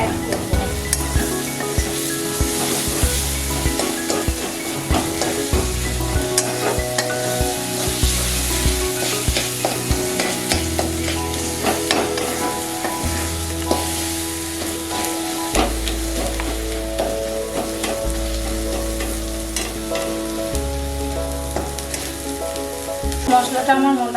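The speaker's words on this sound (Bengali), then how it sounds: "এবার এটাকে আমি ভালো করে মশলাটাকে কষিয়ে নেব।" Spice paste for a Bengali country-chicken curry frying loudly in a pan, a dense continuous sizzle with rhythmic stirring and scraping throughout, close and strong, with a low hum underneath.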